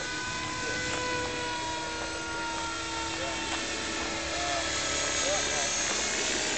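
An Align 600 radio-controlled model helicopter flies over a club flying field near Las Vegas, giving a steady, sustained whine from a moderate distance that holds throughout, with voices faintly present.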